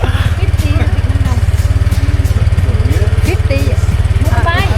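A motor scooter engine runs steadily close by during a ride in Da Nang, Vietnam, its pulsing low drone continuous under street noise and occasional talk.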